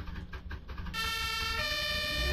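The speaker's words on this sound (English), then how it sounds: "Can I turn my sirens on?" An emergency vehicle siren in the Brick Rigs video game starts after a moment and holds a loud, steady wail over a low engine rumble.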